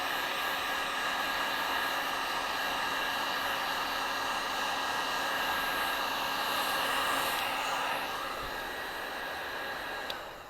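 Handheld heat tool blowing steadily to dry a damp mixed media art tag, a loud continuous airy roar with an even hiss that holds for about ten seconds before cutting off.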